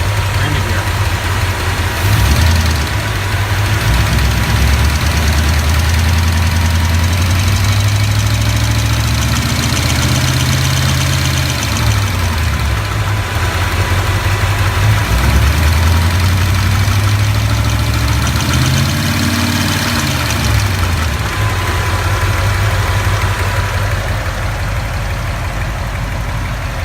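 A 1965 Ford Ranchero engine idling close by with a steady, loud rumble, its revs rising and falling in slow waves over nearly half a minute, with no voices.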